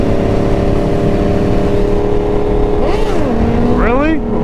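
A Ford Mustang fitted with an SC Project exhaust drones loudly and steadily, its pitch swooping up and down in a couple of quick revs near the end, with traffic noise all around.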